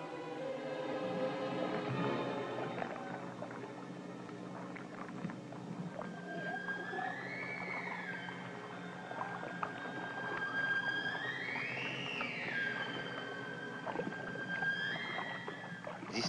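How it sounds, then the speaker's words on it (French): Young seals on an ice floe give plaintive, rising-and-falling wails, several drawn-out calls heard at moderate distance over a low wind-like background rumble. "l'étrange concert plaintif des jeunes phoques se fit entendre"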